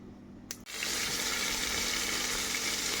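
Onions hit hot oil in a pressure cooker, a sudden loud sizzle that then hisses and crackles steadily and close up.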